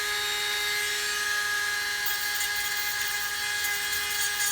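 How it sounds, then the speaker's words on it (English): A small rotary grinding tool whines at a high, steady pitch while shaping a part for a 1/48 scale Lunar Module model, droning continuously and close by with no speech. "You grind a little bit"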